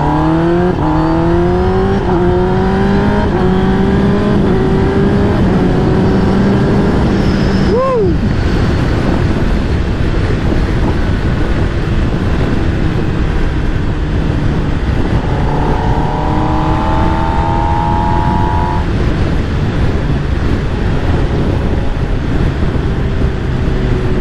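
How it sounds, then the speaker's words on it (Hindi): Kawasaki ZX-10R motorcycle fitted with an aftermarket exhaust, ridden on an open road early in the morning, its loud engine note rising and falling through gear changes under heavy wind roar. "सो फिलहाल के लिए तो मजे लो एग्जॉस्ट के"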